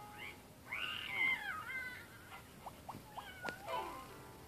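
Cat meowing near and clear, one drawn-out meow followed by a string of short chirping mews, with a quiet background.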